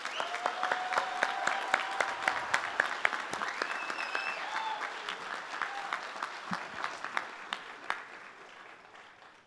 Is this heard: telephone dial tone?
no